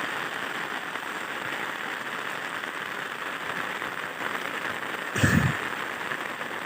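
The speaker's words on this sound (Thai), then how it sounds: "ฝนกระตกครับ" Steady rain falls outdoors during a fishing trip, a soft continuous hiss of drops on surfaces with a brief low bump of handling noise near the end.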